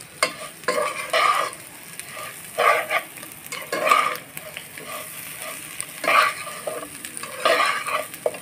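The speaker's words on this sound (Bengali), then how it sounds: "এটা আপনারা একটু সময় নিয়ে কষাবেন" Potatoes and fish head sauté in a pan for aloo muri ghonto: a steady sizzle runs underneath while a spoon scrapes and stirs in repeated close, rhythmic bursts.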